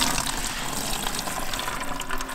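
Cooking water from boiled hemp seeds draining off as they are strained for fishing groundbait, a steady close splashing pour running throughout without a break.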